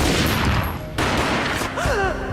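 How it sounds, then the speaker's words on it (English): Gunfire in the Max Payne video game, a burst of sharp shots followed by a second loud report, with a brief wailing tone near the end. "A gunshot boomed and she fell down in slow motion."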